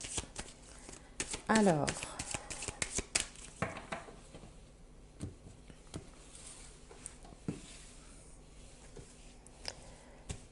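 Tarot cards are shuffled and drawn by hand in a quick flurry of riffling snaps and light slaps, with someone speaking French softly over and between the card sounds.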